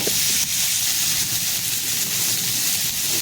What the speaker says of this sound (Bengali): ফুলকপিটাকেও একটু লাল লাল করে ভেজে নেব